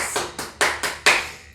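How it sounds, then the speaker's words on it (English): A person claps several times after a single-clubbell workout, five to six sharp, close hand claps in an uneven rhythm with no one talking. "Step back and give yourself a round of applause."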